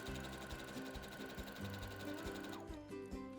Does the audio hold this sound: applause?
no